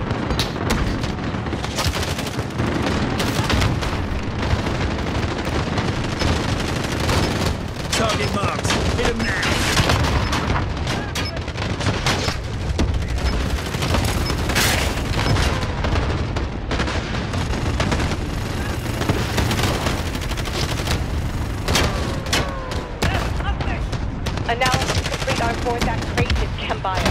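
Sustained automatic gunfire from Call of Duty: Modern Warfare rattles in dense, continuous bursts with heavy booms mixed in, loud and close throughout, with voices shouting intermittently underneath.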